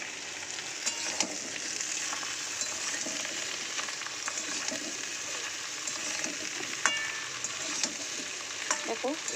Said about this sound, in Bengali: আগে এই ডাঁটাটা আর আলুটা একটু ভালো করে ডিমটার সঙ্গে ভেজে নেব।